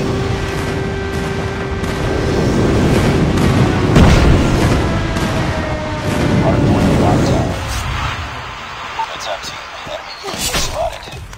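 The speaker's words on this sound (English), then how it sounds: "Friendly airstrike incoming." Airstrike blasts pound a multiplayer map in Call of Duty Mobile. Heavy, booming explosions roll together into a loud, sustained rumble, with gunfire cracks around them and a game voice speaking over the din.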